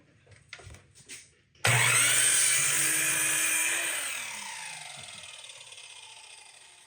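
A power saw bites into wooden planter box pieces being cut to size, starting with a loud abrupt shriek that gradually winds down and fades after a few handling knocks.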